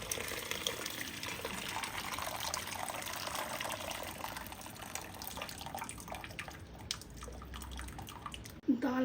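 Hot water is poured into a pot of daal as it cooks, a faint, steady gushing splash lasting several seconds with a soft clink near the end.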